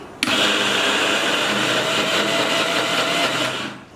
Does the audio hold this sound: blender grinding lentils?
yes